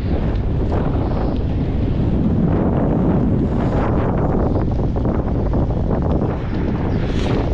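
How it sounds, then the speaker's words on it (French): Heavy, constant headwind roars across the microphone in a steady, loud rush while cycling, with no voices. "pour l'instant, j'ai le vent de face"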